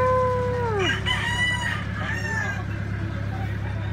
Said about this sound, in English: Hey, hey, rooster.